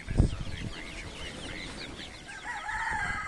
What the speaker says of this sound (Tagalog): Naging 10 sila dahil gawa nitong anak ng kobra. Manok na kobra.